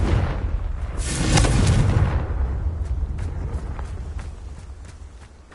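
A Confringo fire spell bursts into a loud, booming explosion in Hogwarts Legacy, swelling for about a second before rumbling away into a fading tail with scattered crackles.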